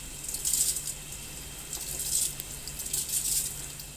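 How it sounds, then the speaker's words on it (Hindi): Raw rice poured a little at a time into chicken yakhni stock at a rolling boil for pulao, giving a steady watery rush and bubbling with a few brief splashy bursts, close and moderately loud, with no talk. "अब ये यखनी में बॉयल आ गया तो अब मैं इसमें चावल डालूँगी थोड़े थोड़े करके आराम से"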